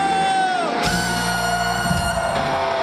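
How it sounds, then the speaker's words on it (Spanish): Festival crowd shouting and cheering at an outdoor orchestra concert in Milladoiro, Galicia, a loud sustained roar that swells partway through, with amplified sound over it. "E ahora queremos escoitar o grito máis alto"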